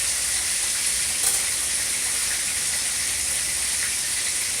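Vegetables for fish soup bubble hard in a pot on the stove, a steady bright hiss and sizzle with occasional small pops, continuous and close.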